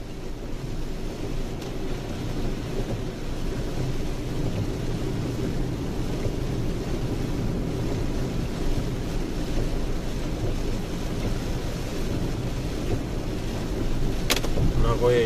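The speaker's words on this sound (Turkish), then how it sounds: "Sabahtan beri yağmur yağıyor." Steady broadband rush of rain and tyre spray on wet road while driving through Nagoya, Japan, a constant close wash of noise with low road rumble underneath, unbroken for the whole stretch.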